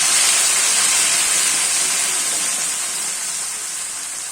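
Ground ginger, chili and garlic paste hitting hot oil with cumin, a loud continuous sizzling hiss that slowly fades over several seconds, no talking.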